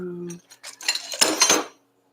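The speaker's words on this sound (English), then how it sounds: "Okay, put the knife down." A metal knife is set down on a hard surface during workshop preparation of a tank, giving a short burst of close, clattering metallic clinks after a brief hum, then silence.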